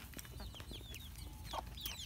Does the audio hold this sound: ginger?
no